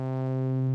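Surge software synth wavetable oscillator playing a sine wave multiplied by a sawtooth, a steady sustained buzzy tone with rich harmonics, heard alone for under a second.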